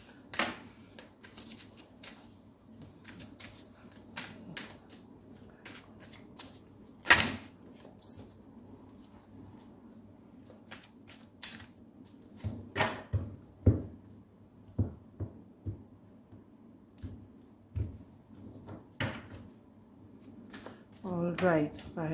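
Tarot and oracle cards shuffled and handled in a series of short, sharp riffles and taps scattered across a quiet room, with a person speaking intermittently in between.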